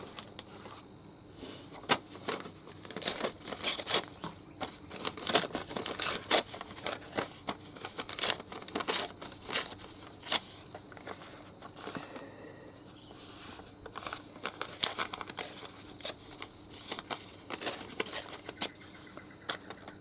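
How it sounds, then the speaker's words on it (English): Small paper bits rustle and crinkle close by in quick, irregular bursts of dry crackling and shuffling, fairly quiet, with brief pauses between handfuls. "All my precious little paper bits are in here."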